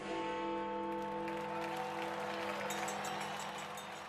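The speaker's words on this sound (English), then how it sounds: "Everywhere he went, huge crowds turned out to cheer the nation's hero." Large outdoor crowds cheer and applaud wartime leader Winston Churchill, a dense, steady wash of clapping and voices at fairly constant loudness throughout, with no single voice standing out.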